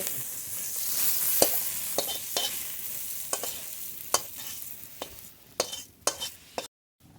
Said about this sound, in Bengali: হলুদ গুঁড়ো মশলা খুব ভালো করে ভেজে নেব